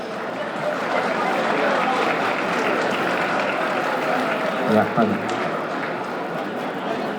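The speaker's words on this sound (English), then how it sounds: "Let us give them a big round of applause" A crowd at a community event applauds volunteers, a dense continuous wash of clapping at moderate level, with a brief bump of louder noise near the end.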